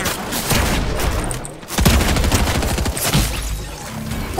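Fortnite gunfire erupts in a dense, loud barrage of rapid shots and booms that fills the whole span, with a brief dip before a second heavy burst.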